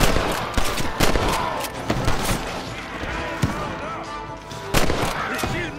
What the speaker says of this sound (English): You're shooting fresh air there, boy!